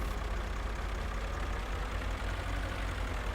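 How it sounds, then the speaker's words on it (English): A tractor engine idles in the video game Farming Simulator 2013, a steady low rumbling drone that stays constant and close throughout, with no talking. "the idling on this one sounds very much like the tractor that my uncle used to drive"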